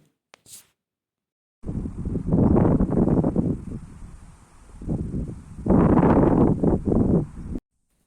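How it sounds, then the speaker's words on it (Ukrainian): Wind gusts through birch branches in two swelling surges, a loud, rough rushing and rustling close to the microphone, easing between them. "Послухайте, як шумить вітер у гілочках берези."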